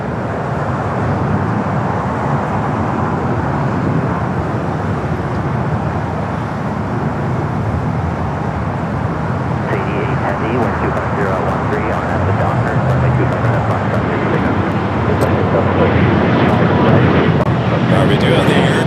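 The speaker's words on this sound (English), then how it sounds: "The 787-9 Dreamliner next takeoff 24 left there on the north side." A Turkish Airlines Boeing 787-9 Dreamliner roars down runway 24 Left at LAX on takeoff, a broad, steady jet rumble that swells slightly near the end, with a commentator talking over it.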